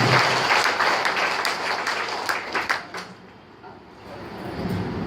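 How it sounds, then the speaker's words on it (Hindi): An audience at a political party cadre meeting in Thane, Mumbai, breaks into loud, dense applause that holds for about three seconds, then thins and fades into quieter room noise. "एक बार जोरदार तालियों से इनका हवाला लगाना चाहिए।"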